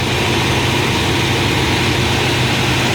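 The engine of a 1966 Chrysler with low oil pressure idles steadily and low, rumbling evenly throughout with a constant drone and no other sounds.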